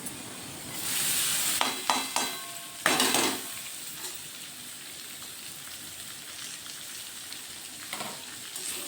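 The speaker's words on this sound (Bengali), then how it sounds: "একটু ভালোভাবে নেড়ে নিচ্ছি যাতে নিচে না লেগে যায়।" Spaghetti with fried potatoes and green chillies is stirred in an oily pan, with scraping bursts of stirring over a softer sizzle.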